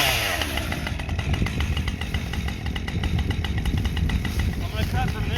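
A Husqvarna 545 Mark II chainsaw, a 50cc saw, runs outdoors near an oak tree, giving off a continuous buzzing engine drone with a rapid pulsing texture that stays loud and close throughout.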